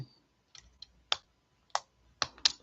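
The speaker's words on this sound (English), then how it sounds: "the nib comes out when you click it, just like a retractable ballpoint type pen" Pilot Vanishing Point retractable fountain pen clicking, a series of small sharp mechanical clicks at close range, irregularly spaced with brief pauses between.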